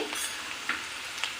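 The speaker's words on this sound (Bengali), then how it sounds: "পেঁয়াজটা ভাজা হয়ে গেছে, একটু লালচে লালচে করে ভেজে নিয়েছি।" Onion frying until reddish in a pan: a steady close crackling sizzle of hot oil, with faint stirring scrapes popping up now and then across the short stretch.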